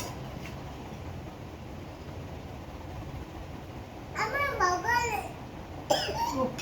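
A small child coughs a couple of times up close, between bursts of high-pitched childish vocalizing, over a quiet background hiss.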